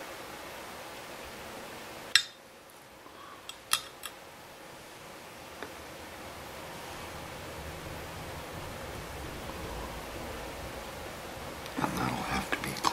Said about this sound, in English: I'm a little reticent to do this with the nippers, because I want a clean cut right here.